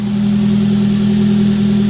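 A swapped engine in a Nissan Sentra Spec V runs at a steady, loud idle with a strong low hum and smooth, even drone, close by, with no voices.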